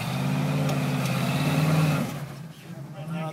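An off-road vehicle wedged on a rocky trail revs its engine in a loud, throaty, steady growl for about two seconds, then drops away to quieter idling and ambient noise, with people talking nearby.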